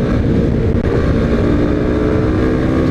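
Kawasaki Z 250 SL motorcycle engine while riding, a loud, steady droning rumble with a low throb that holds evenly throughout, no voices over it.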